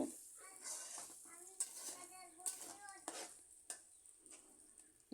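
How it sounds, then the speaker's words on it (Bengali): Masoor lentils sizzle and crackle in hot oil with chopped onion, stirred steadily with a utensil that scrapes and clinks against the pan now and then. The steady frying hiss stays close and fairly quiet, with no talking. "এবার আমি ডাল পেঁয়াজ কুচির সাথে ভালো করে মিশিয়ে নিচ্ছি এভাবে আমি ডাল কিছুক্ষণ বেজে নেব"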